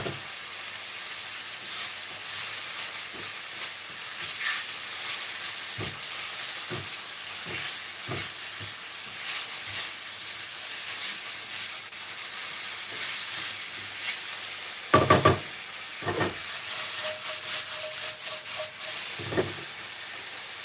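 Asparagus fries in a little oil in a pan with a constant soft sizzle, broken by scattered clicks and scrapes of stirring and a few louder knocks of utensils against the pan.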